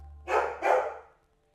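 Two quick, fairly loud barks from a pet dog indoors, close together, then quiet, over a faint low hum.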